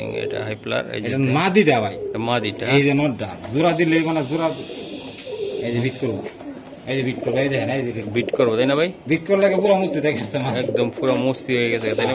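Budapest racing and high-flyer pigeons coo in low rolling, repeated calls close by, heard beneath and between steady conversation from nearby people.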